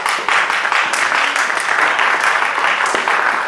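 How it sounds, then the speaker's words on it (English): An audience at a town hall claps in a full round of applause, with sharp individual hand claps standing out from the steady crowd sound. "Another round of applause."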